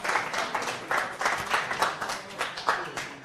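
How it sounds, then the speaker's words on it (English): Audience applause at a social impact summit as a woman walks up to the front, a moderate wash of clapping with uneven swells, heard from within the room and somewhat distant. "Let's give her a round of applause as she comes to the front."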